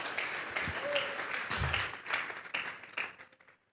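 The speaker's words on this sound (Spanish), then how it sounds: "Vamos a regalarle ofrendas de palmas al Dios de la gloria" A church congregation claps in scattered, uneven bursts of modest loudness, fading away at the end, while a preacher's voice carries over the applause.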